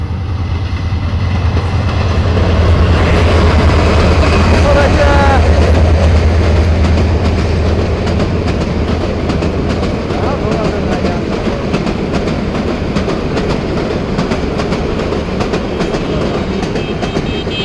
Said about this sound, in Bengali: যখনই যাত্রা শুরু করব তখনই চলে আসলো ট্রেন